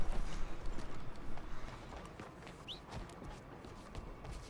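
A horse's hooves clip-clop in the Red Dead Redemption 2 video game, a steady run of hoofbeats that is fairly loud at first and then eases off into softer, more distant steps, with no talk over it.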